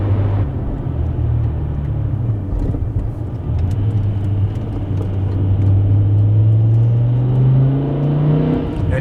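A 2008 BMW E60 M5 with a manual gearbox and V10 engine, heard with the exhaust valves closed, gives a deep steady rumble that rises smoothly in pitch as it accelerates, close and fairly loud.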